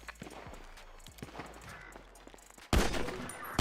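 Video game gunfire on a roleplay server: scattered sharp shots early, then a loud sustained burst of fire near the end, with little talk.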